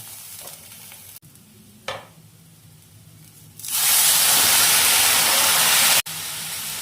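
Boiling water pours onto Gobindobhog rice for Basanti pulao, a broad loud rush and sizzle that rises sharply midway and holds steady, preceded by quieter kitchen clatter and a brief knock.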